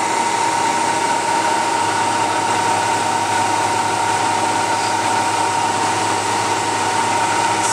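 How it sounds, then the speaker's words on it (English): A machine fitted with a Pierson Smartvac cuts a part, giving a steady, loud, unbroken whirring hum with a thin high whine held throughout, no voices. "I'm gonna turn the machine on. I'm gonna hit go."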